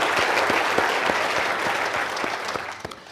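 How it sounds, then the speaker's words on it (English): A university academic opening audience applauds their MC, a steady dense clapping wash with a few louder individual claps standing out, filling the hall for about three seconds and tapering slightly at the end. "And give a round of applause to"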